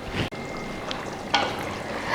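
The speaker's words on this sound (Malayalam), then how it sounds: "ഇനി കറി നന്നായിട്ട് തിളച്ച് ഈ ചാറൊക്കെ വറ്റി മീൻ നന്നായിട്ട് വെന്ത് വരണം." Fish curry made without coconut simmers and reduces in a pan, giving a steady close bubbling hiss broken by a brief gap and one sharp clink, with no talking.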